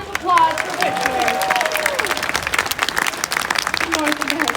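Live audience applause at an outdoor Renaissance festival big-cat show honoring a North American cougar, steady dense clapping from a crowd with a voice and brief tonal sounds over it.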